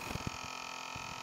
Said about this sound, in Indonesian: kipas ini bunyi dan ada blok es.